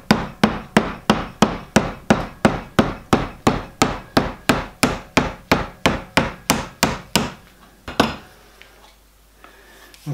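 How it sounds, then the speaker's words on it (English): A rapid, steady series of about twenty sharp hammer blows on a metal tube plate for a miniature steam locomotive rings out close by, then stops, leaving a quiet pause and a faint final tap. "I can feel it's starting to resist the hammer blows."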